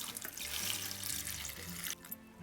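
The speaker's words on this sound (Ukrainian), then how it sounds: "заливаємо холодною водою" Cold water runs from a tap in a steady rushing stream, filling a cooking pot close by, then cuts off near the end.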